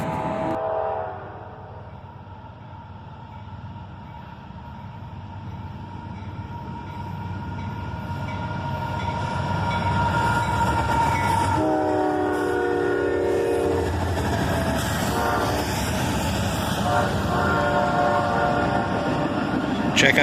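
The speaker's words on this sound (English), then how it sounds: "Check out this awesome 6 locomotive lash-up, 3 of them BNSF units, 2 in the war bonnet paint scheme." A BNSF freight train led by a six-locomotive lash-up, two units in warbonnet paint, rumbles past loudly and steadily with a blast of the horn partway through, the rolling din building and staying strong to the end.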